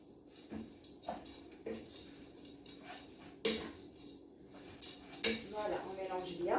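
A spoon stirs a Moroccan kefta and lentil mixture in a metal pot, giving intermittent clanks and scrapes against the sides, close and irregular, with a faint voice near the end.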